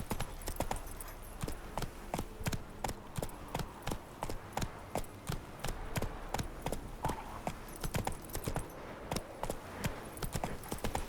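Hooves clip-clop in a quick, even trot as a horse moves along in The Witcher 3, each footfall a crisp, close tap repeating steadily throughout.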